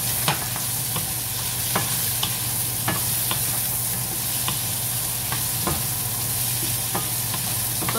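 Prawns and vegetables such as squash, string beans and eggplant simmering in a pan with coconut milk, giving a steady close bubbling sizzle with occasional stirring clicks and scrapes throughout, no talk.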